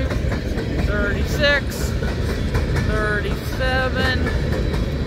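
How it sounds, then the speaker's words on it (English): An empty BNSF coal train rolls slowly past at a crossing in Callao, Missouri, giving a steady clattering rumble of wagons close by, while a man counts the cars aloud over it. "That coal train's moving slow"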